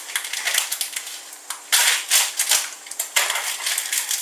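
Dry spaghetti being cut in a kitchen while making spaghetti bolognese, heard as close, crisp irregular cracking and snapping crunches in bursts, with a couple of louder breaks.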